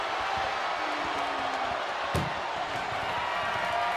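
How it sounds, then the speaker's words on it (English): A single sharp metallic slam of an ambulance door closing in a wrestling video game ambulance match between The Undertaker and Triple H, a brief loud impact over steady crowd noise. "Tossed into the ambulance. Shut the door."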